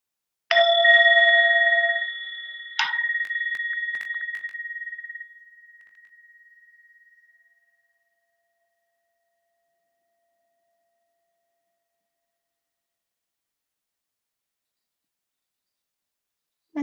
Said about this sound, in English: I'm just going to make the sound of the bowl now